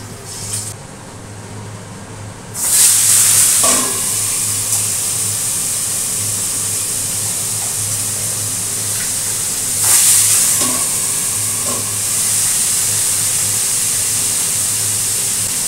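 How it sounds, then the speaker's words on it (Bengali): Gourd stem curry sizzles and fries in a pan, with a steady hiss running throughout and brief scraping bursts from stirring heard near the start and again around the middle. "আর করবো হচ্ছে লাউ ডাঁটার তরকারি। দিয়ে দিচ্ছি ঝোলে।"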